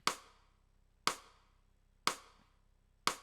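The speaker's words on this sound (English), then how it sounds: "A rim shot." Rim shot drum sample from a music production stem, likely a sampled hit rather than a drum machine sound, struck four times at a steady one-per-second pace; each hit is a sharp, bright crack with a short decay into near silence, with no voices.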